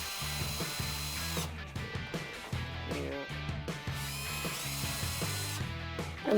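A power drill with a 2.5mm bit whirs in repeated short bursts boring clearance holes in a pedal car bulkhead, its motor pitch rising and dropping as it bites in and pauses, close and steady.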